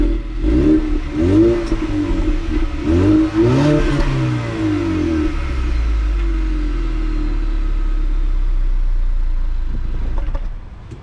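A 2021-2022 Ford Mustang EcoBoost with a turbocharged engine, rear-wheel drive and a 10-speed automatic is started up close. The starter cranks, the engine catches and revs several times, then settles into a steady, rumbling idle.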